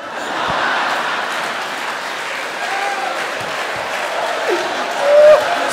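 Audience applause at a live comedy show, a steady broadband patter of clapping across the whole stretch that swells briefly near the end, with faint murmurs and a whistle-like tone in the crowd.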